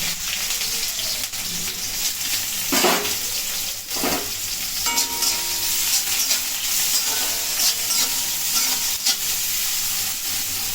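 Chopped onions fry in an oil-filled wok for a cauliflower mash, giving a steady close sizzle throughout, broken by a few scraping stirs of the spatula against the pan.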